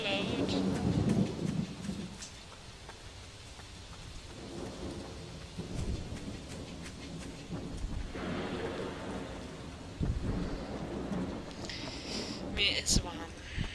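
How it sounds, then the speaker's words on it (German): Steady rain with rumbling thunder in the horror game Pineview Drive, a constant hiss with low rolls beneath, while a person talks over it at times. "Obwohl es regnet."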